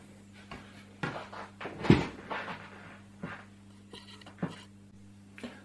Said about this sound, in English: removing the keycaps